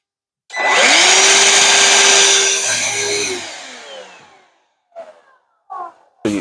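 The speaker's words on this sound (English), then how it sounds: "the Ryobi wet dry vac, model number P770" A Ryobi P770 wet dry vac running on an 18V battery starts with a rising whine, runs loudly and steadily for about three seconds, then spins down, followed by a few short clicks and knocks.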